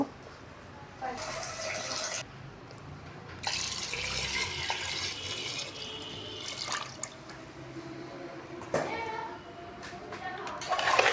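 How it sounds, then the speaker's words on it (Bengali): Water runs and splashes in bursts, as if poured from a tap into a pot, with a voice and other talk in the background. "তার জন্য এখন আমি পানি দিয়ে নেব।"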